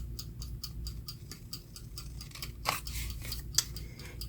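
Scissors snip repeatedly through thin strips of coffee-dyed paper, a steady run of crisp, close cuts with a couple of louder snaps near the end over a low background hum.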